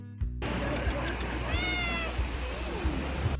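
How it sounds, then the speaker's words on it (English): A single drawn-out cat meow rises over steady outdoor rumble like wind or waves at a beach in Curaçao, with no one speaking. "met the most beautiful cat relaxing by the beach"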